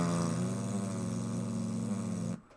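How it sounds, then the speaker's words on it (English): V1 buzz bomb pulse jet engine in a Kerbal Space Program game, a steady low rapid buzzing drone with harmonic layers that cuts off abruptly near the end, loud and alone. "they called it the buzz bomb because this thing has a pulse jet in it"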